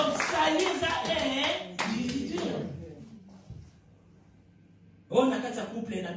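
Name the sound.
church congregation applauding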